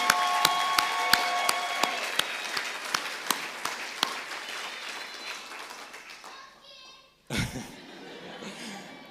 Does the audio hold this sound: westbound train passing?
no